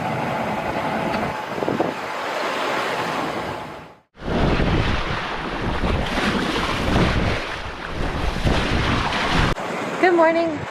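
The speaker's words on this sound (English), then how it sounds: "The wind picked up a little bit over the night, and it's not dying, but we have 11 to 13 knots" Wind rushes steadily over a sailboat crossing the Pacific, a loud broadband roar of wind noise with water wash beneath, briefly dropping out once partway through.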